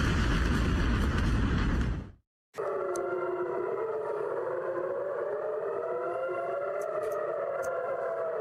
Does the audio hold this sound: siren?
yes